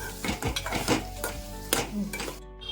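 Paneer being stirred in butter in a metal pan, with repeated scraping and clinking of a spoon against the pan and a faint sizzle, close and busy.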